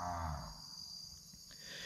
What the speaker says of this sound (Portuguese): escutar essas vacas mugindo desse jeito aí